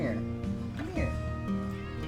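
A house cat meows several times close to the microphone, drawn-out rising and falling cries heard over a person talking.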